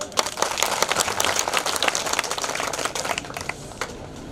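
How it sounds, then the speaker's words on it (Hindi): Loud, dense applause from a crowd at a satsang in a Kali Mata temple, steady clapping sustained throughout with no voices over it. "जोर के ताली"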